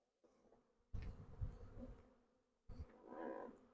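Honeybees buzz around a hive full of honey in a few close, rising and falling bursts of droning hum, separated by brief quieter gaps, with no talking.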